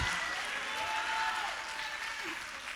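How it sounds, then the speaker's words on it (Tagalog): Congregation at a church service applauding, a steady dense wash of many hands clapping together, fairly loud and continuous for a few seconds with no voices on top. "Dapat kang pumalakpak."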